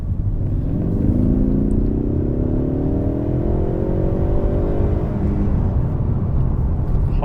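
Ford Mustang EcoBoost pulling hard from a rolling start, with a loud, steady engine note climbing in pitch as it accelerates and then levelling off near the end. The car is heard from inside the cabin, and no one speaks.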